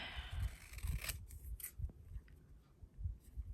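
Scissors snipping through paper at a craft table while making a scripture journal page, a few crisp cuts close by, with no talking.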